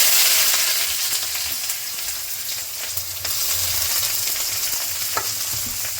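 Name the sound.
onions frying in refined oil in a hot kadai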